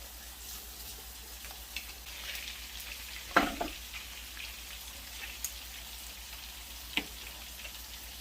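Garlic cloves frying in a pan, a steady soft sizzle and crackle with a few sharper pops near the middle and later, close and alone with no talk.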